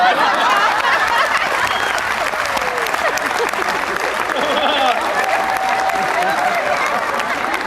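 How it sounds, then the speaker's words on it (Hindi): An audience claps steadily throughout at a Rotary gathering, dense continuous applause mixed with chuckles and murmuring from the crowd, fairly loud and close. "जो लोग ताली बजा रहे हैं"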